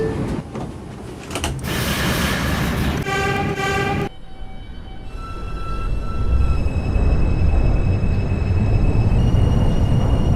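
5 express subway train in the OpenBVE simulator game, a series of rapid loud electronic chime tones and a horn blast giving way to the steady rumble and whine of the train running.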